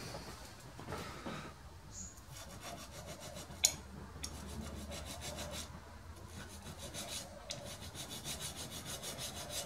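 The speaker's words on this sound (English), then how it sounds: "I'm just going to clean that burr off and just see where we are to the line." A hand file rasps a burr off a machined metal part on a lathe slotter build, a steady run of quiet, close strokes with one sharp tick partway through.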